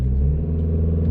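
A Škoda Superb Combi launches at full throttle with traction control switched off, its engine giving a loud, steady close-up roar for a brief moment.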